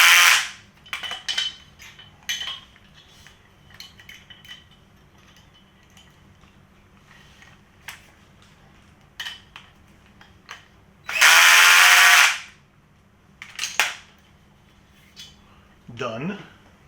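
A flat wrench drives a nut onto a K-Tool adjustable work table in a few short metallic bursts, with one loud ratcheting burst near the middle. Someone talks between the bursts.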